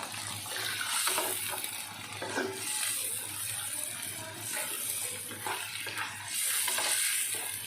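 Fresh farm crickets stir-fried in a pan until golden, giving a steady wash of loud sizzling hiss with scraping stirring strokes running through it and no voices.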